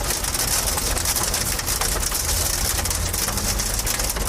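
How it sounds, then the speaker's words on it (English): Hail battering the hood of a storm chasers' vehicle heading into Lubbock during a storm, a loud dense clatter of rapid impacts over a constant roar, with no talk. "barrage of hail coming into Lubbock down the hood here"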